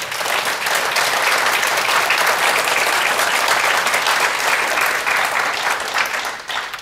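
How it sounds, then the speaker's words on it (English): Loud, dense applause from a forum audience for county sheriff candidates holds steady for several seconds before tapering slightly at the end. "Let's give one more round of applause to the candidates."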